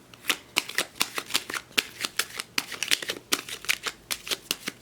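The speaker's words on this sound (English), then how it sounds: "So this is just way too difficult for me to shuffle." Tarot cards being riffle-shuffled in quick, crisp bursts, a steady stream of sharp flicks and clatters, close and fairly loud, with no talking.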